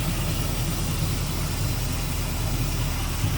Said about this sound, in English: It's a nice, clean, tidy engine base, smooth running V8.